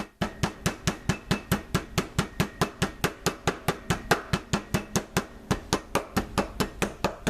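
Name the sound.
hammering meat thinner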